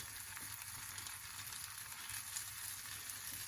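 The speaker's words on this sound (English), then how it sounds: "It's going to start to sizzle" Steady, close sizzling and crackling of bread frying in a hot pan for a grilled cheese sandwich, continuous and even throughout, with no talk.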